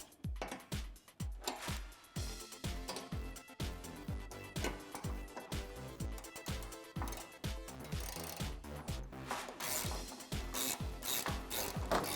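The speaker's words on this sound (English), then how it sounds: "So once you have them most of the way threaded in, you can take a ratchet." A hand ratchet on an extension tightens the front bumper bolts on a 2013-2018 RAM 1500, a long run of close, loud clicking strokes in steady rhythm with brief pauses between pulls, and no talking.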